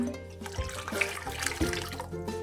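Water is poured into a cooking pot of bhatt, black soybeans, in a home kitchen, a soft splashing pour with faint clinks of the pot and no talking.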